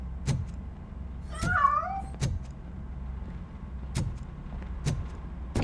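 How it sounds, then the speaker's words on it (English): A cat meows once in RoboCop: Rogue City, a short rising-and-falling call near the middle of the clip. It is set against a low ambient game hum and several sharp clicks or knocks. "That cat must be hiding inside."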